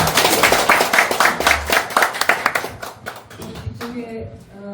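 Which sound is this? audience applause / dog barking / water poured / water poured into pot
audience applause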